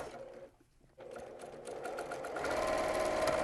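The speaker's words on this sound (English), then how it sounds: "So I'm going to head over to the sewing machine and show you how that looks" A sewing machine stitches fabric in a fast, even whirring hum that briefly dips and pauses, then resumes and grows louder as it backstitches.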